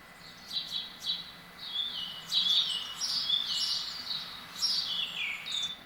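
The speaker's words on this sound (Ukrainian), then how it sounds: "Так, пташка." A small bird chirps repeatedly in quick high tweets, fairly clear over a quiet background, with no speech.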